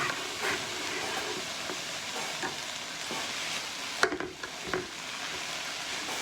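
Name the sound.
noodles stir-frying in pan for vegan stir fry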